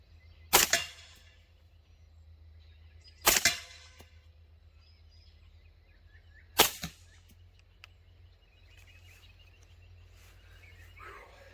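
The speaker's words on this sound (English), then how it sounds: "All right, now for the subsonics. 4 subsonic rounds." Suppressed .30 caliber subsonic rounds fired through a new suppressor: three sharp, fairly quiet reports spaced a few seconds apart, each a brief crack with a short tail against a low steady hum, with no talking in between.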